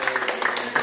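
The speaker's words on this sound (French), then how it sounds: "Et on peut l'applaudir aussi." An audience applauds Nicolas on the first day of filming the movie "Jolie Julie". The clapping is quick and dense and fairly close, with a murmur of voices mixed in. The burst is very brief.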